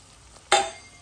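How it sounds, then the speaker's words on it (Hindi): Garlic masala hits a pan of tender chicken with a sudden sizzling burst that fades over about half a second, heard up close after a quiet moment. "अब हम इसमें गार्लिक मसाला डाल देते हैं।"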